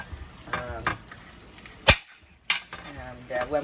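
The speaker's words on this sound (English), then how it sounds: "so I'll continue cutting these carrots" A knife cuts carrots into big chunks on a board, giving a few sharp, isolated chops and taps with short pauses between them, mixed with faint kitchen clatter and brief talk.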